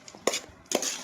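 A knife slices a banana into pieces for topping a sweet dry-fruit and honey mix, giving two short, close chopping cuts against a board with quiet handling noise between them.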